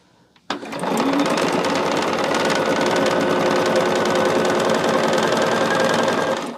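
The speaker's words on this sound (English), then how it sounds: "chain sewing, like repetitive pieces all at the same time" A sewing machine chain-stitches quilt block pieces in a long, steady, continuous run after a brief start, close and loud, with no talking.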